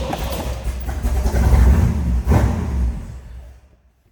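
A cold-blooded 348 tri-power V8 in a 1961 Chevrolet Impala convertible cranks and fires, surging loudly for a couple of seconds before settling and fading out, heard close up with no talking.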